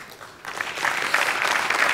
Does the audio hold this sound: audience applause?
yes